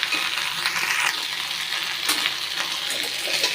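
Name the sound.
frying vallarai leaf chutney ingredients sizzling in a pan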